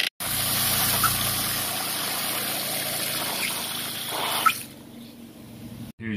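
Water rushes and trickles steadily through a washing machine supply valve just turned back on, a constant hiss that cuts off sharply near the end.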